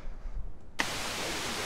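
After a brief quiet stretch, a radio in the VR spy game The Red Stare switches on with a click and gives out a steady hiss of loud broadband static.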